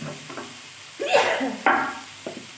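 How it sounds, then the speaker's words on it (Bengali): Spices such as turmeric, cumin and ginger powder being stirred and fried in a pan for a ridge gourd and prawn curry, with a soft sizzle and a few louder scraping stirs close by. "এখন একটু নেড়ে চেড়ে ভেজে নেব"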